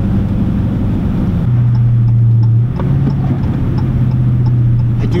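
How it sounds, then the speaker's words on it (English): A Dodge muscle car turns around on a snowy road, its engine droning steadily inside the cabin with shifts in pitch as it slows and pulls away, while a faint rhythmic ticking, like a turn signal, runs underneath. "we can see how the car does hit a U-turn in this"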